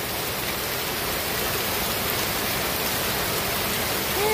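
Rain falling steadily, a dense, even hiss that holds at the same loudness throughout with no voices.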